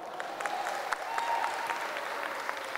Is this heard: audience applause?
yes